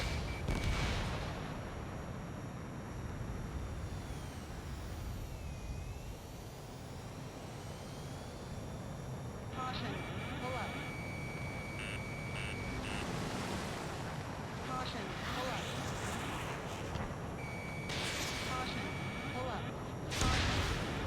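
Missile launches and anti-air gunfire from Ace Combat 7 rumble through a dense, steady wash of jet and battle noise, with sharper bursts breaking out in the second half and a loud surge near the end.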